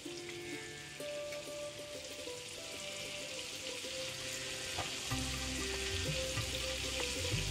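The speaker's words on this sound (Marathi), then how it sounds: "बटर मेल्ट झालं की त्यामध्ये अर्धा चमचा जिरं टाकून घ्यायचं।" Cumin seeds crackle and sizzle in melted butter, a steady close hiss with fine popping that continues evenly and grows a little fuller toward the end over a faint low hum.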